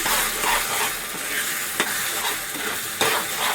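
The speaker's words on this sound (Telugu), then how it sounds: "వీటినన్నింటినీ బాగా కలుపుకోవాలి" Spiced tomato curry (tomato gojju) being stirred in a hot pan, with scraping spoon strokes over a steady close sizzle and sharper knocks at intervals; no talking.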